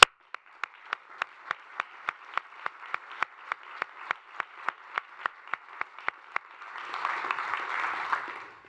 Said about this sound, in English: let's start with a round of applause for everything you've accomplished over the last 3 decades